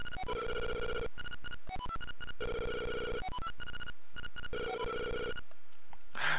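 A telephone ringing in the Link's Awakening video game, an electronic ring in repeated bursts with brief gaps, loud and close, with no talking over it.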